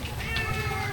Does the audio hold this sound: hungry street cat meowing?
yes